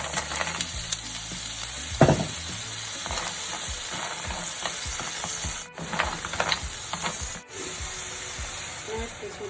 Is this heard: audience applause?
no